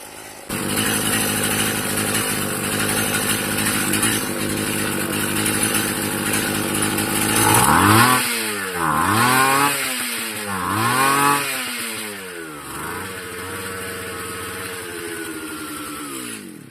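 An old motorized bicycle engine running lean buzzes steadily at close range, then rises and falls through several uneven revs, with no talking over it.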